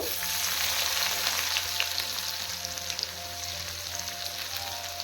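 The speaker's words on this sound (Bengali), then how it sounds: "এখন পেঁয়াজটাকে লাল করে ভেজে নেব" Sliced onion sizzles steadily in hot oil with tempered whole spices. The frying crackles loud and close, with a few soft stirring scrapes.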